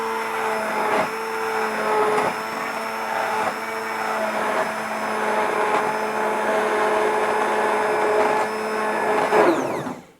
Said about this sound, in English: now we're going to mix it all in a mixer for about 2 minutes